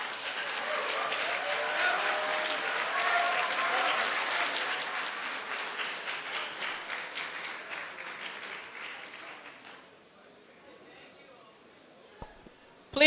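A debate hall audience claps steadily at Liberia's 2017 presidential debate, sustained applause that thins into scattered claps around the ninth second, followed by quiet room noise and a loud bump at the end.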